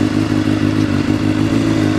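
Motorcycle engine running at a steady idle just after starting, a loud, close, even low throb with a mechanical clatter and no voices.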